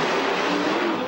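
A loud, roaring engine holds a steady, dense growl for just over a second, from a monster truck with almost 1,500 horsepower during a freestyle run at the 2003 Monster Jam World Finals.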